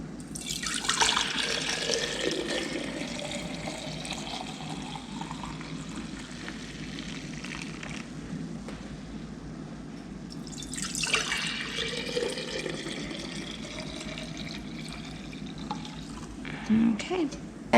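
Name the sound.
pouring milk into glass jars for cream top yogurt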